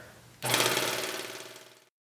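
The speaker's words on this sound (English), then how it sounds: "These loopers are threaded with a burst of air from its extraordinary threading system." A Baby Lock Evolution serger threading its loopers with its air-jet system: a sudden loud hissing burst of air that lasts about a second and a half, then cuts off abruptly, heard alone and close.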